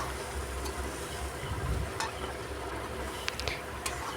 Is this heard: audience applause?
no